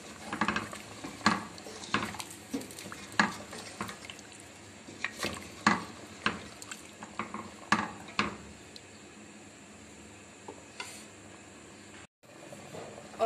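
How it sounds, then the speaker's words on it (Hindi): Mutton trotters being stirred into broth in a cooking pot, a series of wet scraping and clinking strokes of a spoon against the pot, repeating irregularly at moderate loudness with no talking. "इसको मिक्स कर लेंगे।"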